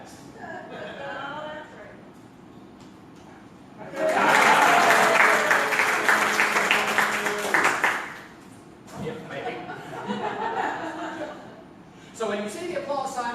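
A theatre audience at a live voice-theatre show at the Valiant bursts into loud applause for about four seconds, set between stretches of people talking.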